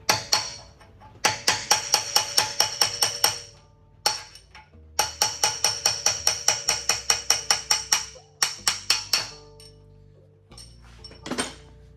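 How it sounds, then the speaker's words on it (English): Rapid metallic hammer blows ring out in quick bursts of about ten strikes each, separated by short pauses, loud and close, as a front CV axle shaft is hammered out of a Mercedes GLS. "Sometimes you gotta hammer it to push it out."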